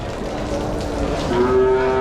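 Cattle at a livestock market in Vaniyambadi, a long low moo rising near the end over a steady hum of crowd and market noise, fairly loud and close.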